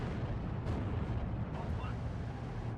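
Mortar fire in the World War II strategy game Steel Division 2, a dense continuous rumble with a few muffled booms landing close together over heavy low battlefield noise.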